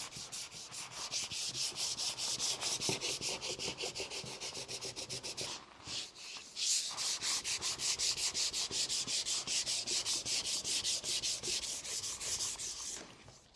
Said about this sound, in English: We're now going to sand it back and then see how close we are with the panel.